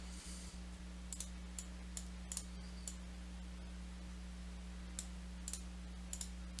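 Computer mouse clicks sound sharp and close in a quiet room over a low steady hum, coming as scattered single and double clicks.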